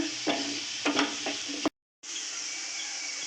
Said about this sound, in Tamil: அடுப்பை சிம்லே வச்சு நல்லா ஃப்ரை பண்ணிக்கோங்க